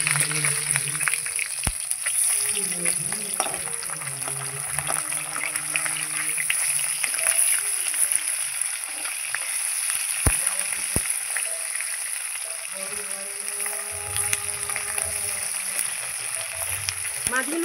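Chela fish sizzle steadily in hot oil, a continuous hiss and crackle that holds through the whole stretch, with a few louder pops as the pieces are flipped and faint voices in the background.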